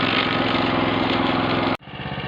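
A garden branch shredder runs loud and close with a steady, buzzing engine drone, then drops off sharply near the end and settles into a lower, pulsing idle.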